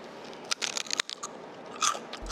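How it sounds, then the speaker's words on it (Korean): Several sharp, crisp crunches of potato chips being bitten and chewed up close, in irregular bursts with quiet pauses between. "완전 바삭바삭해요."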